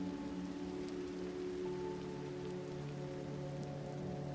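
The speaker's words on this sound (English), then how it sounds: "we can see the rain continuing to fall on the ground" Steady rain pattering on the ground in a neon-lit megacity street, a dense continuous hiss with a low hum of city background beneath, no voices.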